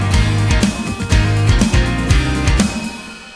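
Programmed drums with a Tama bell brass snare sample play a busy beat over a thick bass line, the snare cracking sharply and repeatedly, loud and close with no talking.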